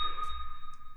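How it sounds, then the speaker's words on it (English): Bell sound effect in a hip-hop beat, with lows and highs scooped out: a sustained tonal ring with a bright sonar-like ping, plus a low pulsing thump and a couple of short airy ticks, played alone. "Then we added this bell effect and we just scooped out the lows and the highs."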